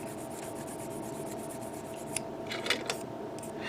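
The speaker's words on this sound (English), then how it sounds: "this pretty much feels like you're sanding it down, but you're also buffering it" Steady close-up rubbing and sanding on a hard plastic model part, a continuous dry scrape with a few sharper strokes toward the end.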